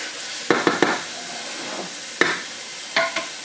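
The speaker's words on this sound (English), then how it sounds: "I'm going to allow it to fry a little bit, cook with the onion." Nigerian red stew with onion being stirred in a pot, a few sharp scraping clinks of a spoon against the pan over a steady faint sizzle of frying, with no talk.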